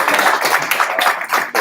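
An audience at a student seminar at UMass Amherst applauds, a brief burst of close, dense clapping from many hands, loud and steady throughout.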